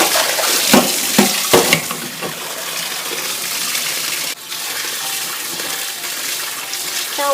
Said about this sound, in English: Now wash for 2-3 times in running water.